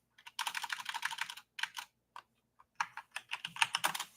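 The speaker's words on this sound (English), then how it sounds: "I couldn't see what I was typing here" Typing on a computer keyboard comes through as quick bursts of close, crisp key clicks, a dense run followed by scattered taps and short pauses, then another rapid flurry, with no talking.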